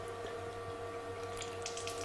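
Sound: water running out of open radiator hoses

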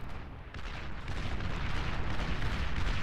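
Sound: artillery fire from bots in video game Beyond All Reason

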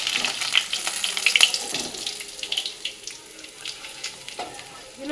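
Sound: fish frying in oil

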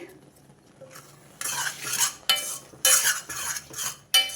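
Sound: stirring gongura chutney with garlic and cumin in kadai

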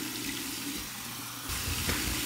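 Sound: cold tap water running for a face rinse

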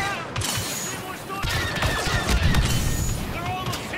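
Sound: blaster gunfire in Star Wars Battle of Naboo video game

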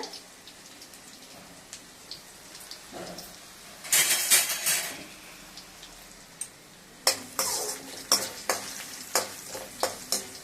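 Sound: tempering urad dal in hot oil

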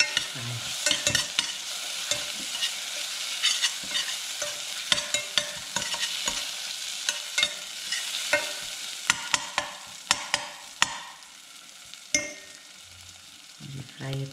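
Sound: crushed ginger frying and stirring in pan

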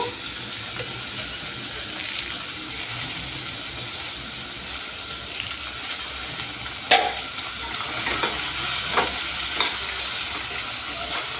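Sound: frying curry leaves until brown

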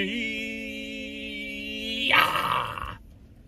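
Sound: dog growling sound effect

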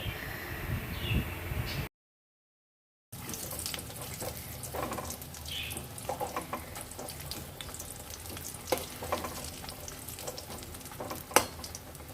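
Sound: frying banana stem fritters in oil

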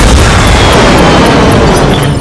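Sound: mech's gun firing, from the video game MechWarrior 5

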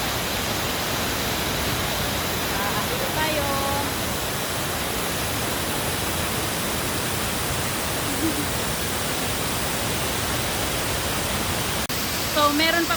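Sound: large waterfall, Tinuy-an Falls

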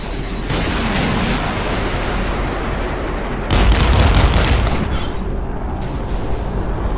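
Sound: rocket launcher fire and explosions in Modern Warships video game

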